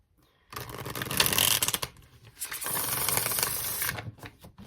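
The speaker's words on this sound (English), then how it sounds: "One more shuffle, guys." Two bursts of rapid riffling as a deck of tarot cards is shuffled close up, a crisp fluttering patter with a short pause between.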